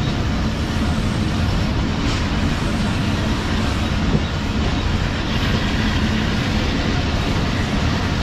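Musa Pak Express passenger train running at speed, around 118 km/h, heard from inside a coach about seven coaches behind the locomotive: a steady, loud rumble with faint rhythmic clatter throughout.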